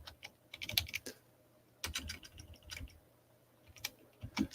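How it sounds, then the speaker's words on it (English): Quick bursts of keyboard typing, clustered clicks and clacks with short pauses between, close to the microphone. "I know you probably hear me typing."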